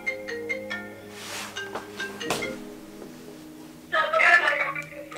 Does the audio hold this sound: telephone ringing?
yes